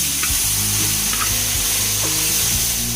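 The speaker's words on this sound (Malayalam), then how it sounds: "നമ്മൾ തയ്യാറാക്കി വെച്ചിരിക്കുന്ന തേങ്ങയുടെ 2ാം പാലിനെ ഇതിലേക്ക് ഒഴിച്ചു കൊടുക്കാം." Second coconut milk poured into a sizzling chicken stew, a loud continuous sizzle and bubbling close up with a low rumbling undertone and scattered stirring clicks.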